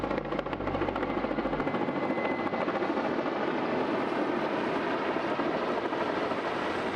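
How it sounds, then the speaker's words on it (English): A heli-logging helicopter lifting timber over steep forested inlet terrain produces a steady, fairly loud rotor and engine drone that holds continuously, heard from a passing boat, with a low throb at the start. "There was also a heli logging operation taking place"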